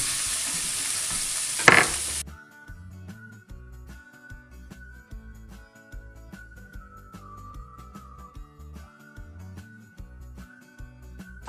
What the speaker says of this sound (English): now we're gonna make the roux, which is just a fat melted with flour that's gonna thicken our gravy